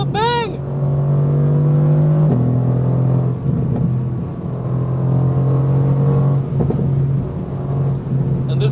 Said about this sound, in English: we can't reach top speeds, but we're still giving some throttle, some sound, some nice accelerations